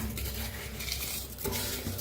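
Washed jeera rice stirred in a pot of boiling water while making masala rice: soft scraping and watery swishing against the pot, fairly quiet, with the low hum of bubbling underneath.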